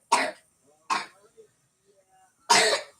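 A sick young child coughs three times nearby, sharp separate bursts with quiet gaps between them and a little faint sound in the pauses.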